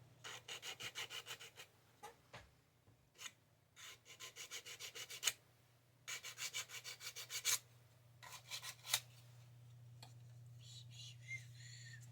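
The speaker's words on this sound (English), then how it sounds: "sanding I think needs to be done." Close, rhythmic scratching strokes of hand sanding a 1/32 Trumpeter F6F-5N Hellcat plastic scale model come in quick bursts, pausing between sets, quiet and steady.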